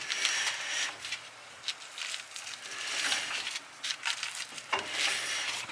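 A steady scraping, rubbing drag from a rear brake swells and fades as the wheel hub is turned, with a faint low hum underneath, close by.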